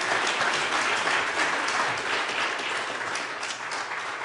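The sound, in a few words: audience applause at a debate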